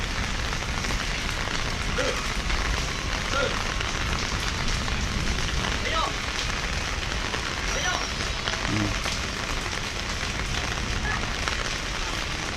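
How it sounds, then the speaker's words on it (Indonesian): Steady, soft patter of light rain falling on a surface, a continuous gentle hiss with faint scattered drops throughout. "Hujan, gerimis aja."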